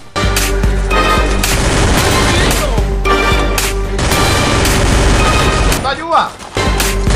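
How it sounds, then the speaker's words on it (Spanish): Rapid bursts of gunfire and booming explosions from a shooting video game, loud and nearly continuous, with a whooshing sweep near the end. "Yo solamente escucho disparos"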